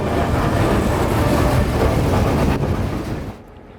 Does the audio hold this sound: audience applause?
no